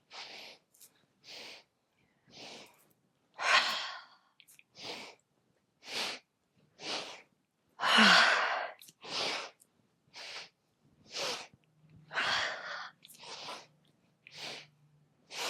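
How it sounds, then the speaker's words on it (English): Yoga breathing with deep inhales and exhales on a ha, heard as a series of short, close breathy puffs at a fairly even rhythm, with a few stronger exhales and no talk between them. "And then as we exhale on the ha, we bend the knees and drop."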